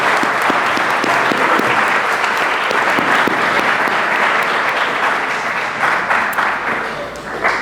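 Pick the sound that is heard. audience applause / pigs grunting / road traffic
audience applause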